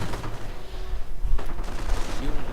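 Rapid bursts of .50 caliber machine gun fire in a WWII strategy video game, rattling steadily amid other battle noise, with a voice talking over it.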